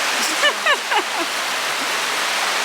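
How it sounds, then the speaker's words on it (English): A creek flows past in a steady, broadband rush of running water, close and continuous, with brief voice-like chirps over it early on. "now the creek flows through here"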